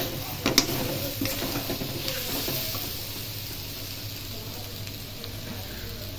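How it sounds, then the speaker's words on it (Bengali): Potatoes land in a pan of cooked spice paste with a few clattering knocks, then settle into a steady, even sizzle of frying that continues throughout. "মশলাটা কষানো হয়ে গেছে, এবার আলুগুলো দিয়ে দেবো।"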